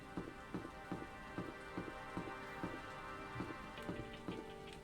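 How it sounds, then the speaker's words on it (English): Rain falling in the video game Danganronpa, a soft, steady patter with faint regular knocking taps about every half second over a quiet tonal background, no voices. "It's raining now."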